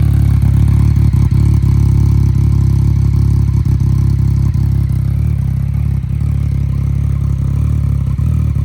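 A motorcycle fitted with a full-system Akrapovic exhaust rumbles loud and close, a deep, steady engine drone with clattering texture throughout, no talk.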